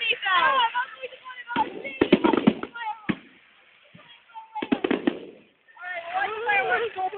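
Bonfire night fireworks at Baxters Park in Dundee, sharp bangs and crackling bursts in quick clusters, fairly close, with children chattering and excited voices throughout.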